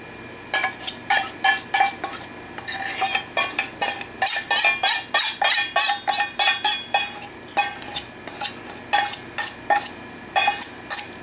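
Cornbread batter being mixed by hand in a bowl, a steady run of rhythmic scraping clinks as the utensil knocks the bowl sides, repeated quickly and close with no talking.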